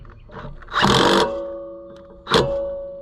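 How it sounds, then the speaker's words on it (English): A cordless impact wrench tightens bolts on a Cub Cadet LT1050 riding mower, with two close, loud bursts: a longer rattling whir followed by a shorter one, separated by quieter shop noise. "We gotta be gentle with this impact because it will twist off bolts."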